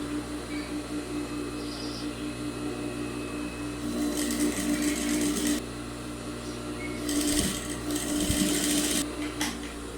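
Sewing machine stitching along the basting on a doll's blouse fabric, a steady close motor hum that rises into faster stitching runs with short pauses between.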